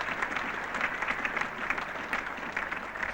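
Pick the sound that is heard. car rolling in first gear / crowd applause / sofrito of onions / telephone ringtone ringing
crowd applause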